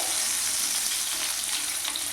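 Potatoes fry in oil in a pan with a dense, even hiss that runs without a break, close and moderately loud, with no one speaking.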